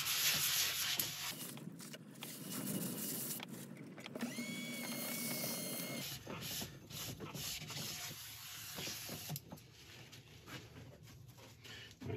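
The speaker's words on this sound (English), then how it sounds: "we'll come back with some Yorkshire grit. We're going to use normal and ultra fine" Horse chestnut wood spinning on a lathe is sanded with Yorkshire grit, a soft continuous rubbing and scraping with faint mechanical whir from the machine.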